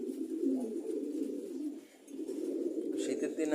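Pet pigeons coo indoors in a steady, low, throaty murmur at close range, with a brief lull midway and faint background noise.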